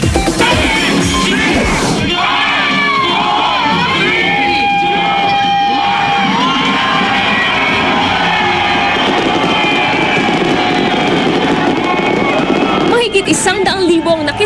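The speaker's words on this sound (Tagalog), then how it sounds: "Pagpatak ng hating gabi, nagkaroon ng engranding fireworks display na tumagal ng halos 10 minuto." New Year fireworks over SM Mall of Asia crackle and pop amid a loud, cheering crowd at a countdown event, with bursts near the start and end.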